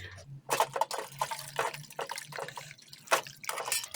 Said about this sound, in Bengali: আমি তো ছেঁকে নিচ্ছি ছানাটাকে আমি ধুয়ে নেবো ভালো করে